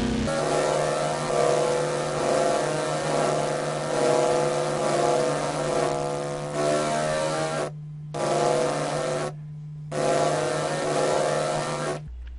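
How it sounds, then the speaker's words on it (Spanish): A motorcycle engine in a video game drones steadily with a buzzing, hum-like tone, holding for several seconds before cutting out abruptly twice, then resuming. "¿Cómo hace ruido la pinche moto?"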